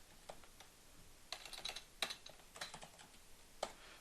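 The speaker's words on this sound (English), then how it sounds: "Might sound I have like a mechanical keyboard, but I don't." Quiet clicking of keys on a non-mechanical computer keyboard, irregular taps and short flurries at close range with no speech.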